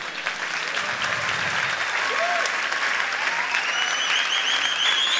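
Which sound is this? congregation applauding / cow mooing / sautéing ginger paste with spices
congregation applauding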